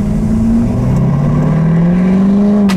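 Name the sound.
2017 Ford F350 truck engine revving on first drive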